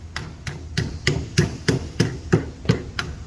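A hammer strikes sheet metal being folded over blocks in a bulkhead project, with about ten steady, evenly spaced blows. The hits are close and moderately loud, each a dull clank, and no one talks.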